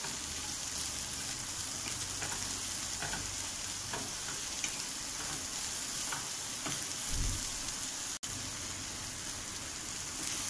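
Beef pieces deep frying in hot oil for beef chilli manchurian give a continuous dense crackle and sizzle like light rain, with a few faint stirring knocks and one sharp click late on, steady and without voices.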